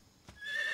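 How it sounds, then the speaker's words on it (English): A horse in the video game Metal Gear Solid 3: Snake Eater lets out a brief, quiet whinny, its rising, wavering tone emerging after a soft thud. "Sounded like a horse."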